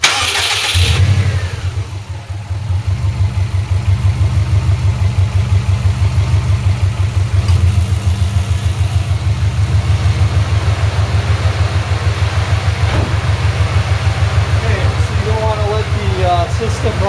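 A car engine turns over and settles into a steady, loud idle that drones on unbroken while the car's R134A air-conditioning system is hooked up for refrigerant service.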